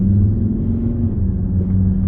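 A Volvo S60 D5 automatic pulls away with a deep, steady diesel rumble heard from inside the car, loud and continuous without talk.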